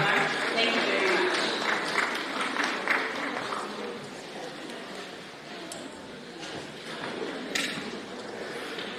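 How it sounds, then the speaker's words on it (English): A women's conference audience gives a round of applause for Mrs. Nyamukapa, with steady, dense clapping from a crowd that sustains evenly before gradually thinning. "please give a round of applause, everyone"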